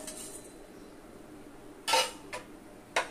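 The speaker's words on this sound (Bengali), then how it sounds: "এভাবে অনবরত একটু নাড়তে হবে।" A utensil scrapes a pan while cumin and five-spice (panch phoron) are stirred for a mango pickle, giving three short, fairly faint scraping clinks over a quiet background.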